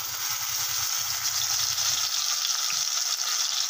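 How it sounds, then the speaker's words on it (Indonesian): Ground spice paste for shrimp and stink bean balado frying in hot cooking oil, a steady close sizzle and crackle running throughout with no talk. "Dan ini minyak gorengnya sudah panas, kita masukkan bumbunya ya teman-teman."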